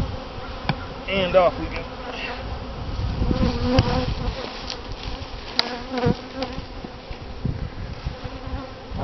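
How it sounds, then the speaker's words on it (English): Honey bees buzz around an open hive during honey harvest, a dense continuous droning swarm close by with individual bees whizzing past, and a voice briefly speaks over it. "the bees will come by and rob it out"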